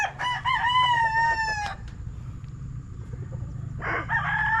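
A young gamefowl stag crows loudly and close by in a single drawn-out call, followed by quieter clucking and the start of another crow against faint farmyard background.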